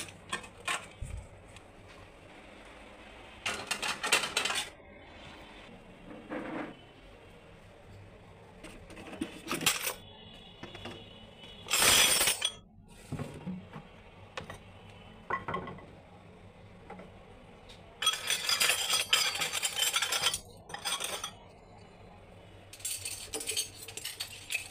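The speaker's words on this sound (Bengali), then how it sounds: "দুপুরে থালবাটিগুলো ধুয়ে রাখিলাম, গুছানো হয়নি, এগুলো এখন গুছাবো" Washed steel plates, bowls and spoons being stacked onto a kitchen shelf, with repeated close clinks and clatters coming in irregular bursts separated by quiet pauses.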